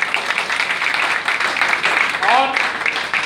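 A crowd applauds leader Sonu Rai with continuous clapping throughout, while a speaker talks over it.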